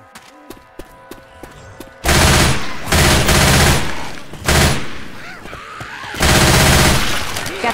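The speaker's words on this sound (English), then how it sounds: "A machine gun." Machine gun fire in the video game Left 4 Dead 2 bursts out in long, loud sustained volleys after quieter scattered clicks and thumps, several extended streams of rapid shots close by.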